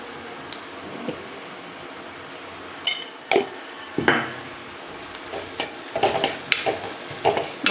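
Spices frying in a pan are stirred with a utensil, giving a soft continuous sizzle broken by irregular scraping clicks and clatters against the pan, close up, with no speech.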